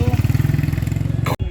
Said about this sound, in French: je pense que le scooter était surdimensionné